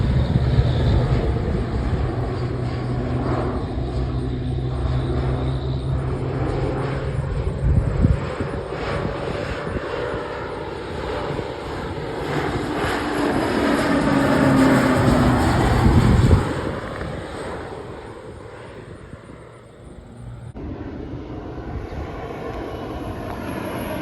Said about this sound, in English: So here's a plane. Dang plane.